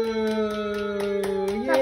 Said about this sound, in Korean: 소 박수. 박수.